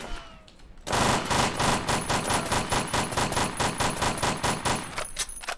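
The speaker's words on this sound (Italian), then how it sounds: "Perché spari così?" Rapid, loud automatic gunfire bursts from the video game War Rock, sustained and rhythmic after a brief quiet start, filling nearly the whole clip.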